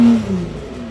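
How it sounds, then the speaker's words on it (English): Kia Sedona engine revved in neutral, a short loud burst of revving that quickly drops back toward idle, heard alone and close. "put in neutral and rev that"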